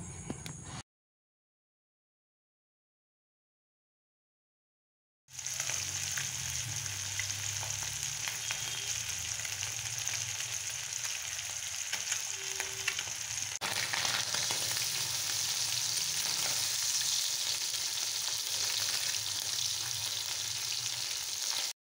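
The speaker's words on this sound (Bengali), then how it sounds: "মাছ ভাজা হয়ে গেল" Morla fish frying in hot oil, a steady close crackling sizzle running nearly continuously after a brief silent gap near the start, with no talking.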